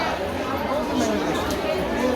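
A dense crowd of pilgrims at the Shegaon temple fair fills the air with continuous overlapping chatter and murmuring voices, steady and moderately loud throughout.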